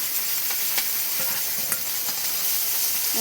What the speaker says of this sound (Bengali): তো এখন আমি এক এক করে কয়েকটা মাছ দিয়ে দেবো